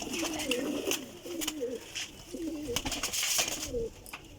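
Flying pigeons coo softly and repeatedly in low, rolling calls, with scattered clicks and rustling in the background.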